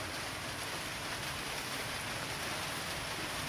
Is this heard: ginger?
no